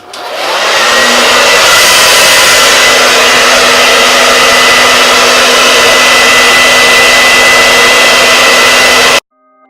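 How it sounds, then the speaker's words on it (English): A hair dryer on its cool setting switches on and roars steadily at close range, a loud even blowing hiss with a faint motor whine, then cuts off abruptly. "Here's my handy dandy blow dryer."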